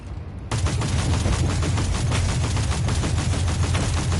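Supercharged turrets unleash a sudden, sustained burst of rapid gunfire in Warhammer 40k Inquisitor Martyr, a loud, unbroken machine-gun roar that starts abruptly and continues without pause.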